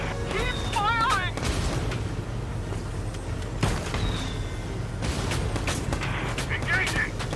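Gunfire and heavy booms in the tactical war game Valkyria Chronicles 4, with several sharp bursts and explosions over continuous battle noise, while a voice talks over the action.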